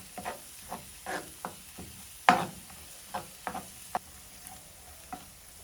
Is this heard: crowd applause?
no